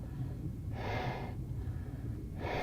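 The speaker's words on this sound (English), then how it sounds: "I just don't like the sound of breathing" A diver character in ARK: Survival Evolved breathes underwater in the deep sea, two slow drawn breaths through the gear, close and rhythmic, separated by a quieter low rumble.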